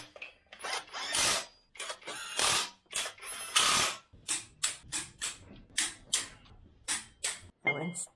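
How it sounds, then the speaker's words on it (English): Fitting an alternator mounting bracket onto a Land Rover TDV6 diesel engine during assembly gives a quick series of sharp metallic ratchet clicks and bursts, close and irregular, with a person talking now and then. "I'm installing the alternator mounting bracket."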